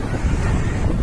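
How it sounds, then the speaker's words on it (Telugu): Sea waves at Bapatla beach, a loud, steady roar of surf mixed with rumbling wind buffeting the microphone. "ఎంత బాగా ఆహ్లాదకరంగా సముద్రం పారుతుందో ఫ్రెండ్స్"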